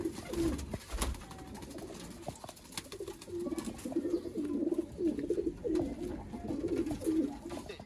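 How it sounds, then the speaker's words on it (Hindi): Sialkoti Chuhe pigeons cooing repeatedly nearby, soft throaty calls rolling one after another over light background rustle. "नया तरीन सियालकोटी चूहे कबूतर दोस्तों"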